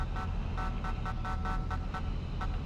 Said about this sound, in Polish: co tam trąbisz, no?